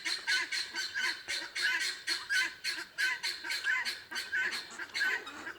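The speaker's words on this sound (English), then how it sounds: "So don't let the noise discourage you from getting guineas" Guinea fowl call repeatedly in a harsh, rhythmic series of grating squawks, several birds overlapping at moderate distance with no talking.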